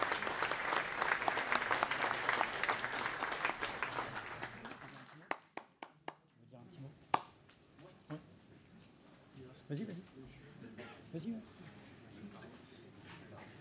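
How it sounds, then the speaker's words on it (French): Audience applauding panelists at a French round-table event, loud dense clapping for about five seconds that breaks off into scattered single claps, followed by murmured conversation and shuffling in the room. "On peut les applaudir."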